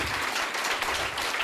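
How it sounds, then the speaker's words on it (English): Brief, dense applause from an audience at a township business strategy workshop, a steady wash of clapping with no voices above it. "Let's give 36 a round of applause."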